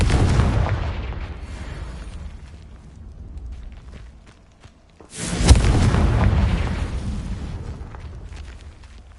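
Confringo blasting spell explosion in Hogwarts Legacy, a heavy booming blast that rumbles and fades, then after a brief lull a second loud sharp explosion with a long rolling rumble.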